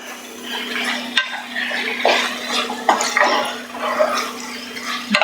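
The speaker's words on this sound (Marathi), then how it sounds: "आता आपण जो किमा आहे ना तो किमा घालायचा किमा घालून मस्त परतून घ्यायचं आहे" Minced meat being stirred and sautéed in spiced oil in a home kitchen pan, with a soft steady sizzle under irregular scraping and stirring clatter from a spoon, close up, and no talking.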